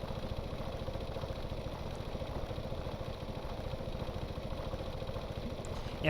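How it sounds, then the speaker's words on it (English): Mining drills run in the video game Stormworks, giving a steady, low mechanical drone with a fast rhythmic pulse, continuous and even throughout. "The drills will slow down when it's drilling because of the resistance."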